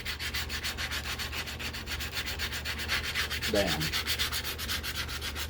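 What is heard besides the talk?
sanding a wooden rifle stock with 120-grit sandpaper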